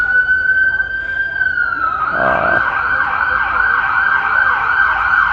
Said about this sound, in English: That siren has nothing to do with what's going on here.